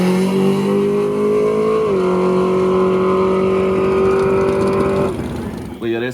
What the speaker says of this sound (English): I'm gonna put a clip of his car in now